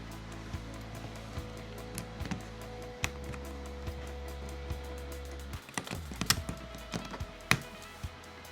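Swapping switches on an Akko blue mechanical keyboard with a GMK67 Zuoya base using a switch puller tool: scattered light clicks, taps and plastic snaps over a steady low hum, close and fairly quiet, with no talk.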